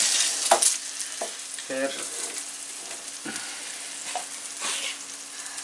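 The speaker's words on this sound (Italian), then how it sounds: "adesso unisco i peperoni che già precedentemente mi ero tagliato. Li lasciamo cuocere" Bell peppers fry in a pan for seafood paella, giving a soft steady sizzle broken by a few stirring scrapes, with a brief spoken word over it.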